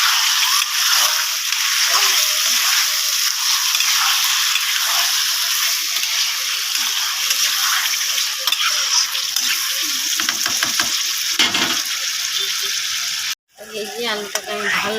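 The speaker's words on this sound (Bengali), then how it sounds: "ভালো করে আমি মশলাটার সঙ্গে আলুটাকে কষিয়ে নেব।" Potatoes sautéed with spice paste in a pan for a fish and potato curry, a steady loud sizzle with occasional stirring scrapes throughout, cut off by a brief pause and a final burst near the end.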